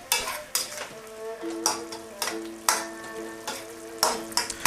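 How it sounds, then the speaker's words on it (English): Beef with tomato sauce and soy sauce sizzles in a pan as a utensil stirs it, each stroke clinking and scraping against the metal in an irregular rhythm over a steady frying hiss. "let's mix those flavors in with the tomatoes"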